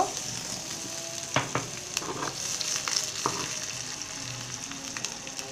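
Green chillies, onion, chopped garlic and four dried chillies frying in hot oil, a constant close crackling sizzle with occasional sharp spatters and utensil scrapes, no voices.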